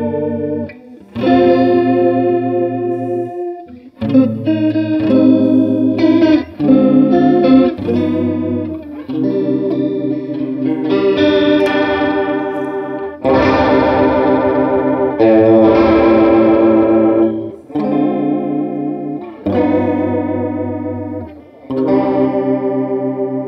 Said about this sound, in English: Almost has a organ-like sound when you really max out that wash effect on the chorus.